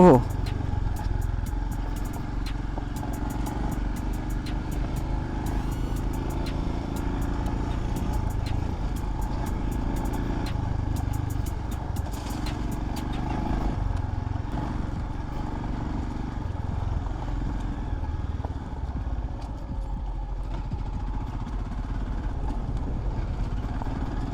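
A Royal Enfield Scram 440 motorcycle riding off-road on a rough road in second gear at moderate speed, a steady low engine thrum with rattles and wind noise, under a rider's talking.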